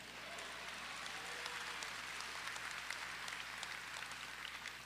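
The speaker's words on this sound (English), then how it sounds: "You can applaud that, that's okay." A graduate commencement crowd claps in a faint, distant wash of applause that stays even and sustained throughout, heard from far back in a large hall.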